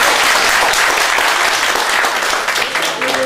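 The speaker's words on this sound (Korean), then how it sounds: "박수 한번 보내주세요." Audience at a Korean educational session applauding, a dense sustained burst of many hands clapping close by that holds steady and begins to thin near the end.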